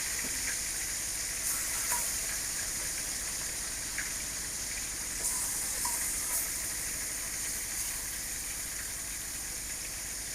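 Turmeric-and-salt-coated fish sizzles in hot oil in a wok, a steady, dense frying hiss that runs unbroken throughout with occasional brighter spits and crackles.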